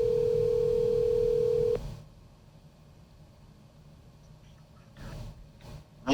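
A telephone call sounds as a steady, loud electronic tone that stops abruptly when the line connects, followed by faint line hiss and a few soft rustles.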